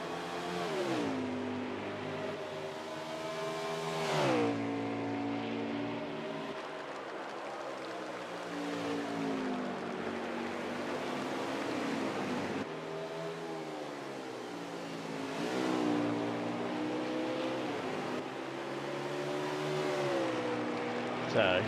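Race cars lap Watkins Glen during a Cup Series race, engines droning and rising and falling in pitch as they accelerate and shift through the course, a steady distant roar with commentators talking over it.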